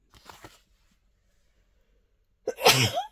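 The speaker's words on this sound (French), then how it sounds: "je sentais l'éternuement arriver" A single loud, sharp sneeze bursts out after a short quiet pause, preceded by a faint, brief murmur.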